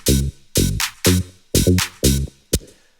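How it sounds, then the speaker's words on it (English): A punchy transistor synth bass line plays short, gated tech house notes in a steady rhythm, each with a bright attack and quick decay, ending on a clipped stab. "I have used the inbuilt transistor bass"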